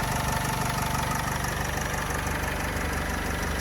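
The 2.0-litre diesel engine of a 2011 Renault Trafic van idles steadily and close by, a continuous low rumble with a faint knocking pulse and no voices.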